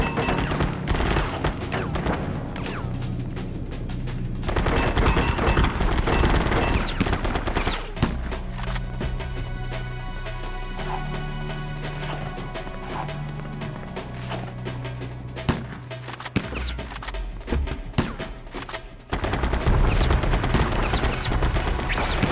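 Sustained bursts of automatic gunfire from covering fire in the PS2 video game Rogue Ops, loud and dense with rapid rattling volleys, heavy booms and impacts throughout, with game music underneath.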